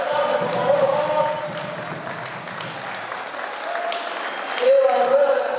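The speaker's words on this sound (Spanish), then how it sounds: "El aplauso, gente, el aplauso, por favor, vamos." Applause for a pageant contestant at a queen election in a hall, crowd clapping that rises and falls, with music and an announcer's voice over it.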